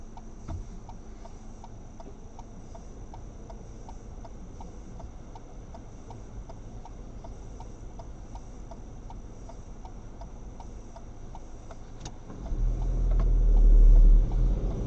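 A car's left turn signal indicator ticking steadily at an even rhythm during a driving test route, faint under low road and engine rumble that swells toward the end.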